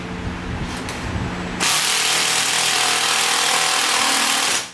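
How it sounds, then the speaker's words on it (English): A power drill bores into the metal floor of a Ford Mustang: a quieter stretch of workshop noise, then a loud, steady, close-up whine and grind that continues for several seconds before cutting off. "Drills a hole in his floor."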